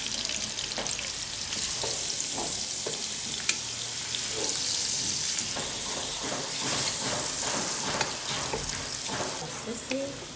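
Sausages frying in a pan while making spaghetti for a large family, a dense continuous sizzle and crackle with intermittent stirring scrapes, steady and close.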